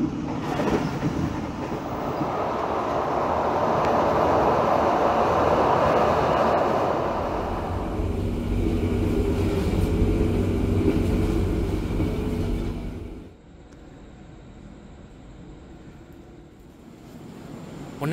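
Diesel service locomotive 206 1333 at Cirebon station, a loud steady rumble and rail noise that eases off midway and drops to a quieter hum near the end.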